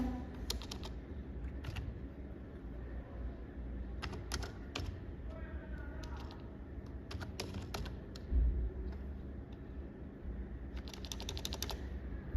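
Typing on a computer keyboard while entering text in Microsoft Word, with irregular bursts of close, crisp key clicks and short pauses between words over a faint room hum.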